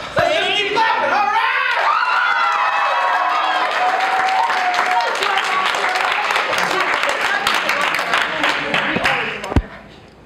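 Audience applause and cheering at a youth slam poetry bout, loud and sustained clapping with crowd noise that fades near the end, with a voice talking over it.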